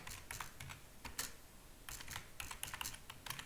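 Steady typing on a computer keyboard while entering a survey response, with bursts of close, crisp key clicks pausing briefly between words.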